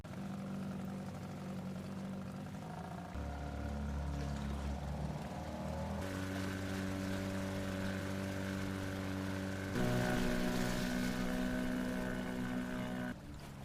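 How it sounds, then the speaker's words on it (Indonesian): A small motorboat engine drones steadily out at sea in the film The Boat. Its pitch and loudness shift in distinct steps, and sustained tonal layers sit over the hum. "Pria itu berniat untuk pergi ke lautan lepas menggunakan perahu kecil miliknya."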